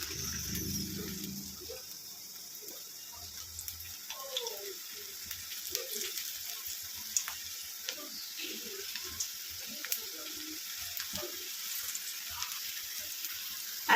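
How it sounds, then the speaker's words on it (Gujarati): Okra pieces coated in flour batter dropped one by one into hot oil, setting off a continuous bright sizzle and crackle with small splashes, and faint voices in the background. "હવે આપણે એની અંદર એક એક કરીને બધી ભીંડી નાખશું।"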